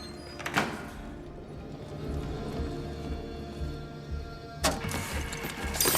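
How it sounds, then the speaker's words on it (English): A door shutting inside a cafe side entrance in the stealth game Hitman, with sharp thuds near the start and again near the end over a steady ambient game hum. "Make sure the door is closed."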